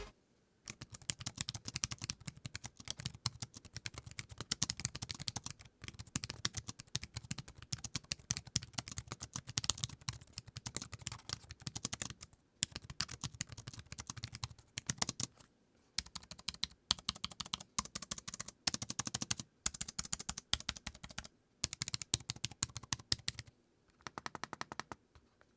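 Rapid, light clicking of keys on a slim low-profile tablet keyboard, typed in bursts with short pauses between runs; close and crisp, no voices.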